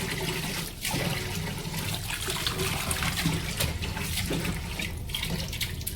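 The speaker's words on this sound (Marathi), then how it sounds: "तर आता हे मी पाण्यामध्ये धुते आणि छानपैकी पिवळा बटाटा भाजी बनवते." Yellow potatoes being rinsed in water, with steady splashing and trickling running continuously and close by throughout, with no talking.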